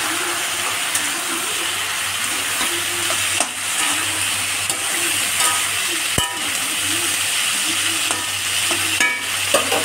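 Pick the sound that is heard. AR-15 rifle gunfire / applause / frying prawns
frying prawns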